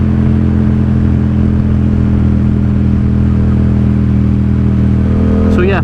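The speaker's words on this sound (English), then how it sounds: "I'll let y'all hear this bike without me jabbering for a couple more minutes" A Yamaha XSR700 motorcycle engine hums loud and steady while riding, a constant low drone with a short rising rev at the very end.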